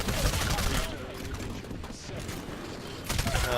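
Suppressed R-101C Carbine fire in Titanfall comes as dense bursts of muffled shots, loud at the start, thinning in the middle and resuming near the end, with a voice speaking faintly underneath.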